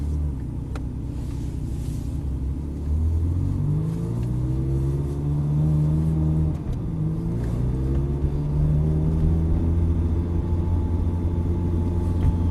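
A sports car on a circuit pulls away from a standstill, its engine note climbing through rising revs. One gear change comes partway through before it pulls on under steady load. Nobody speaks.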